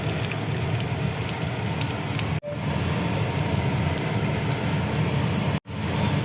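Bay leaf and whole cumin seeds sizzle in melted ghee, a steady hissing crackle with tiny pops, broken by two brief silent gaps.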